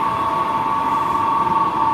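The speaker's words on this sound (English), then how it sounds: "Hey, that's my monorail!" A monorail train departing at Haneda Airport: a loud, steady mechanical hum with a sustained whining tone runs evenly through, close by, with no speech.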